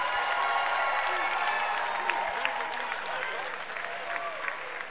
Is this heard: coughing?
no